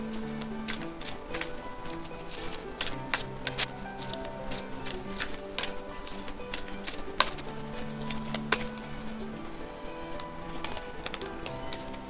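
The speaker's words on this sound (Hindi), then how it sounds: "आपके कार्ड्स देखेंगे हम शफल करके कि कौन से मिलते हैं कार्ड्स" Tarot cards being shuffled close up, a run of quick, light papery ticks and flicks in irregular bursts over a low steady background hum, with no speech.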